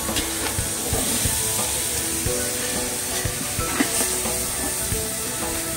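Chicken for a homestyle chicken mandi frying in a pan and being stirred: a steady, close sizzle with scraping clatters of the stirring spoon throughout, no talk.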